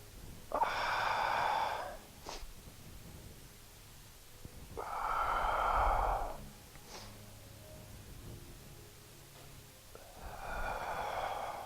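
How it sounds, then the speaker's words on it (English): Heavy breathing during a seniors' balance and mobility exercise, three long audible exhales or gasps spaced a few seconds apart with softer inhales between, close and fairly clear. "Exhale down. Inhale up."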